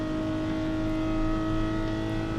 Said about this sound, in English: I love the sound of this Lambo.